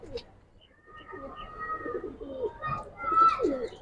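Giribaz pigeons in a loft giving soft, repeated coos in short bursts, fairly close, with someone talking through them.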